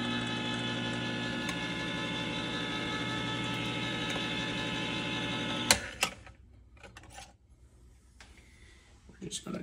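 A can opener grinds steadily and mechanically through a tin can of tomato sauce for several seconds, then stops with a couple of metallic clicks, leaving faint handling noises.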